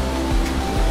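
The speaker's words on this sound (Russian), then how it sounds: "Вот так вот у нас штормит море" Stormy sea waves at Mamure Castle near Anamur, Mersin, Turkey, roar in a dense, steady wash with a couple of heavier surges during one brief second.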